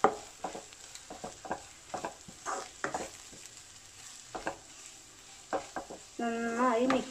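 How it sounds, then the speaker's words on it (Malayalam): Garam masala is mixed and heated in a pan for a Kerala-style prawns roast, with a light sizzle and intermittent spoon scrapes and taps. A brief tonal sound comes near the end, and no one talks. "ഇത് ആഡ് ചെയ്തതിന് ശേഷം ഈ മസാല നന്നായി ചൂടായി വരണം"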